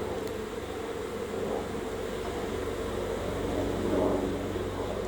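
Honeybees hum steadily inside an opened hive during a spring inspection, with smoke in use to move them aside; a continuous close drone that swells slightly near the end, with no talk.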